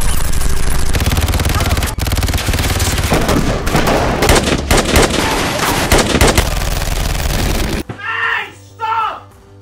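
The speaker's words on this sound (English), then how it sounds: "Oh, and guns. Lots and lots of guns." Dense, loud gunfire from many guns, with overlapping rapid bursts and booming shots blending into a continuous barrage that suddenly stops, followed by a few seconds of speech.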